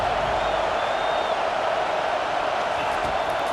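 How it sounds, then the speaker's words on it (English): A packed stadium crowd roars in the College Football 25 video game, a dense, constant wall of cheering that holds at full loudness throughout with a faint whistle-like tone riding above it. "Man, this crowd really affecting the football game."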